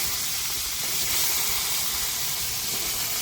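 Panch phoron spices sizzle in hot oil in a kadai, giving off a loud, steady, close hiss that holds even without a break and has no talk over it.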